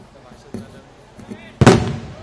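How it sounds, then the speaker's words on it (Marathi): Firecrackers go off at an outdoor political rally in Hingoli: a couple of small scattered pops, then one loud, sharp burst near the end that rings out briefly, with faint crowd noise underneath. "फटाके थांबवा जरा."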